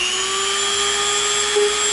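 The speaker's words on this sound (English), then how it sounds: "we'll go over it with the smoother Dremel bit, just to smooth it a little bit" A Dremel rotary tool fitted with a smoothing bit runs steadily against EVA foam for a helmet build, a close, continuous high-pitched whine holding at an even pitch throughout.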